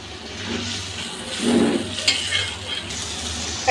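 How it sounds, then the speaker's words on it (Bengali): Tomato, green chilli and coriander paste fries in oil with spices for a tank goby dopeyaja, a steady close sizzle with stirring scrapes and a brief louder flare midway, no voices. "এগুলো শুদ্ধ একসাথে আমি ভালো করে কষিয়ে নেব মশলার সাথে"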